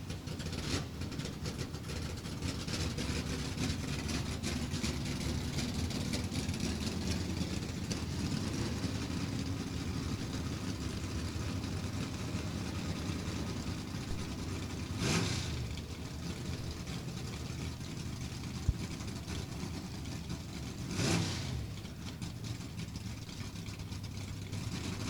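Drag racing cars, including a GTE automatic Cobalt, roll slowly up to the starting line at the JEGS Sportsnationals, their engines a steady low idle rumble with two brief louder bursts near the end.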